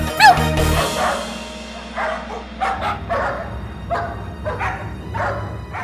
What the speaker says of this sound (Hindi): गली के कुत्तों की फौज अब तुम्हें पूरी गली दौड़ाएगी।